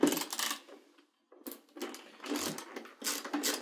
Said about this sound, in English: So we're going to go ahead and remove all 6 of these screws.